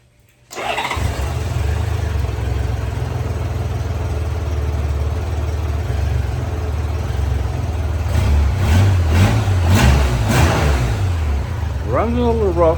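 A 1994 Honda Goldwing 1500 Aspencade motorcycle starts and settles into a steady, slightly rough idle close by, then revs up several times in quick blips before dropping back, with a suspected small exhaust leak at the muffler.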